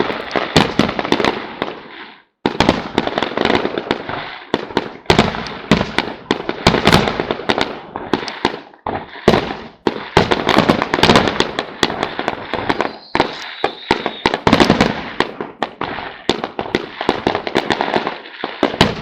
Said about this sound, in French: un feu d'artifice éternisa cet événement. Écoutez le pétarader dans le ciel.